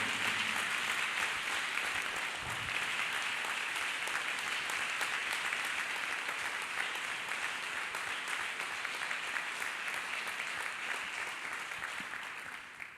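A church congregation claps hands in steady, dense applause that carries on evenly for over ten seconds before tapering off at the very end.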